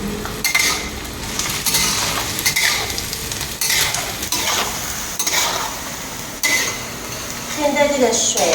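Spicy soybean paste with chili and oil is stir-fried in a pan with repeated metal spatula scrapes and clinks. A faint sizzle runs underneath and a voice talks throughout.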